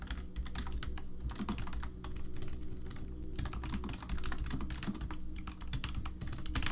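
Fast, continuous clicking of keys on a computer keyboard, close and steady throughout with no voices.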